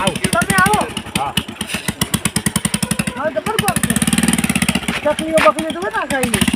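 A motorcycle engine runs with a steady, pulsing chug as it is pulled to the roadside, sitting close and loud beneath people talking throughout.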